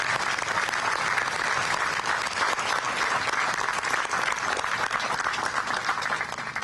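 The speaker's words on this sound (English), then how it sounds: "I would ask you to join me in a round of applause for these great warriors standing in front of you today." Spectators at a 25th Infantry Division change of command ceremony applaud the troops in formation, a loud, dense, unbroken wall of clapping from a large crowd sustained for nearly seven seconds.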